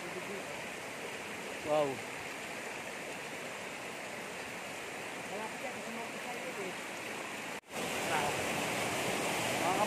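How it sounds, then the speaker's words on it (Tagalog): A waterfall on a hillside farm lot gives a steady, distant rushing roar throughout, with a brief exclamation from a voice and a few faint tones over it. "Naririnig ko na mga ka-farmlat yung ating falls."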